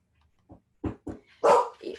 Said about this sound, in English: I have a dog around.